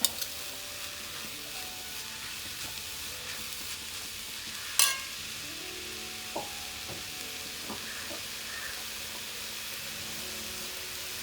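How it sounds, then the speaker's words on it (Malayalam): A banana flower and chaya thoran with lentils is stirred in a hot pan, soft continuous sizzling with scattered spatula scrapes and one sharp clatter, fairly quiet. "നമ്മളിതിലേക്ക് പയർ കൂടെ ആഡ് ചെയ്യുകയാണ്. ഇത് ജസ്റ്റ് ഒന്ന് എല്ലാം കൂടെ മിക്സ് ചെയ്യാം."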